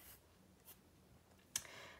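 A pencil draws short lines on paper while sketching leaves and a twig for a bird drawing. Faint, close scratching strokes sound in a quiet room, ending in one sharper stroke.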